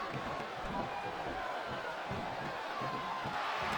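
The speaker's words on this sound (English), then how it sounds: "It sounds like this capacity crowd is something on their minds, Taz." A large capacity crowd roars continuously in a dense, even wash of cheering and noise, sustained throughout at a steady level, in the wrestling video game WWE SmackDown vs. Raw 2007.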